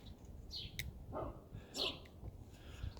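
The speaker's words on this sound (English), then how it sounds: "Wonder what he's barking at." A dog barks a few times up the street, faint and intermittent against quiet outdoor ambience.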